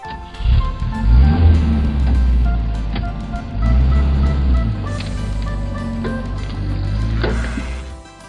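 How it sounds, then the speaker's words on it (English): A car passing close by on a city street, its engine swelling loud then easing off, with a second pass building and fading before the sound drops away near the end. "Car."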